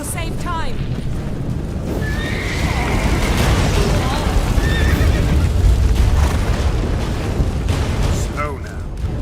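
A horse in The Witcher 3: Wild Hunt neighs loudly several times, whinnies rising and falling, over galloping hooves and rumbling crashes, while character voices speak amid the commotion.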